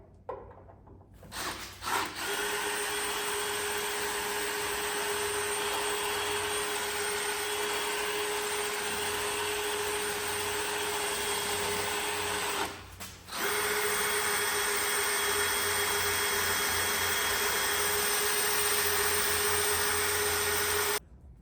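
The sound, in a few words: drilling out spot welds on Mazda MX5 chassis rail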